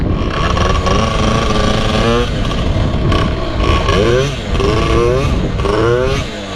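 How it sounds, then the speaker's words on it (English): A moped rides past on a street, its buzzing small engine rising and shifting in pitch under continuous loud talk, with engine noise filling the whole stretch. "It's another moped going down the street right now."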